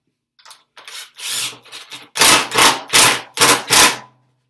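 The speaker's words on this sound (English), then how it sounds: "I'm just going to screw that down to my work surface" A piece of wood is screwed down to a work surface by hand, giving a series of close, loud scraping and grinding bursts that grow stronger and more rhythmic toward the end.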